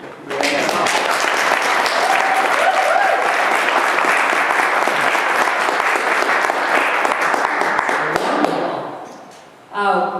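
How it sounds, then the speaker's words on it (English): An audience at a museum talk gives a long, loud burst of applause, with dense clapping that holds steady for several seconds, fades out, then briefly flares again at the end. "Before going any further, please a round of applause for Daniel Hill on piano."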